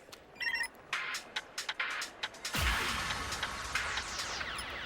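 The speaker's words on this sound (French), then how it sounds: "ton portable sonne" A mobile phone ringing with a bright electronic ringtone, a few short beeping tones that give way to a louder, sustained melodic ring, fairly close and without talk.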